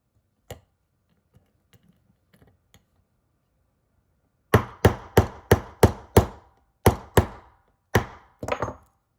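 A hammer knocking a part down into a CZ Shadow 2 pistol during a Cajun Gun Works Pro-package install: a few faint taps, then a quick series of about ten sharp, loud metallic strikes close to the microphone.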